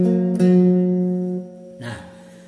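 Two plucked strings of a Sundanese kacapi, tuned in pelog degung, sound a wide la-to-da step. The first note rings clearly and decays, and a second, lower pluck follows after a short pause.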